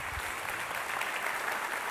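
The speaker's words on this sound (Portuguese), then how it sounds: "Uma salva de palmas para eles," Dense, steady applause from a church congregation during a sermon, filling the space evenly with no voices over it.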